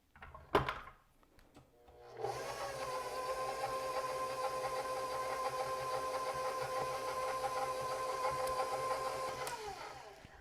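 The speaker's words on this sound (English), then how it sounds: "we're just going to mix the eggs in about medium-low speed until they're just combined" An electric stand mixer at medium-low speed beats eggs into cookie dough, a steady whirring hum that starts after a couple of brief knocks and runs evenly until stopping near the end.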